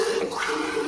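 Water pours into a pan of simmering egg curry in a brief, steady, close rush of sound with no speech.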